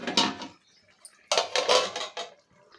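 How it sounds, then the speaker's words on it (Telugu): A lid goes onto a cooking pot of fish curry, with metallic clattering and scraping in two bursts separated by a short pause, close and moderately loud. "ఇప్పుడు మూత పెట్టేసుకుందాం."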